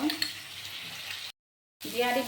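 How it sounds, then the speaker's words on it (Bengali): Potatoes frying with salt, cumin, turmeric and chilli powders, a steady close sizzle with stirring that cuts to silence for half a second and then resumes. "আলুটা এখন ভেজে নিব আমি"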